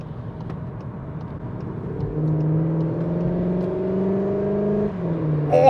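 A Cupra Leon road car, billed as BTCC-inspired, revs hard under acceleration, its throaty engine note climbing steadily before a brief gear-change dip, loud and heard from inside the cabin.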